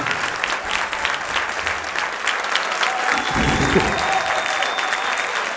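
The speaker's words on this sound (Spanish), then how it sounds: "fuerte el aplauso para él" Steady audience applause for a comedian at a Spanish stand-up comedy night in a cultural centre, dense, even clapping filling the whole stretch, with a faint tone and low rumble underneath near the end.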